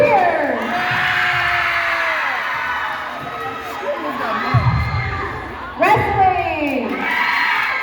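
Students at a high school pink-out pep rally shout and cheer for the wrestling team. The sound is a loud, continuous crowd roar with rising whoops, and a fresh burst of yelling near the end.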